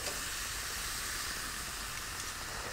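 Meat and shrimp sizzle on a hot grill for fajitas with skirt steak, a steady, dense hiss that stays even and moderately quiet throughout with no talk.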